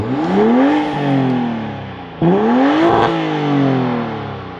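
A 2025 BMW M440i engine revs hard twice, heard from outside, the exhaust note climbing and then dropping away each time, loud and close.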